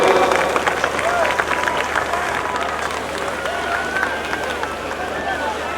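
An audience claps steadily at a ceremony in Hubballi, a tulabhara rite honouring Fakira Siddarama Swamiji, with a dense, continuous patter of many hands mixed with crowd murmur throughout.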